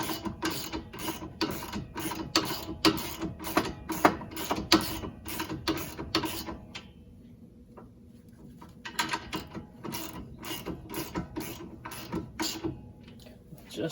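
Ratcheting clicks from tightening the nut on a front sway bar end link of a Honda Pilot, a rapid close-up train of mechanical clicks that pauses briefly midway and then resumes.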